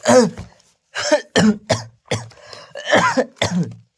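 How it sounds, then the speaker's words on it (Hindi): A run of about eight harsh coughs in uneven bursts, close and loud, with short pauses between them and no talking. "थोड़ा सा सर्दी का मौसम है इसलिए खांसी आ रहा है अभी"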